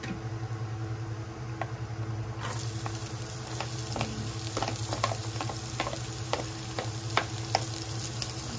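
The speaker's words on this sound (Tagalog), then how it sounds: "Gigisa na tayo ng bawang." Garlic sautéing in a pan for pork ribs, with a steady soft sizzle beneath scattered small pops and taps, moderately close and with no talking.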